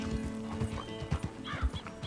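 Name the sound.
horse in Red Dead Redemption 2 video game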